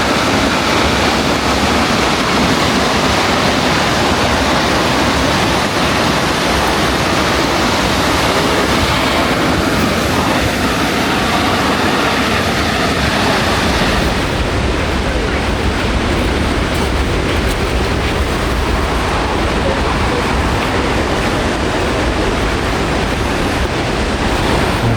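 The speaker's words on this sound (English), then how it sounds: "The waterfall here." Multnomah Falls in Oregon on a foggy day roars loudly and steadily, a dense unbroken wash of falling water that fills the whole stretch without pause.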